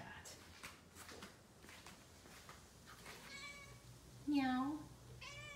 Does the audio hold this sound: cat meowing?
yes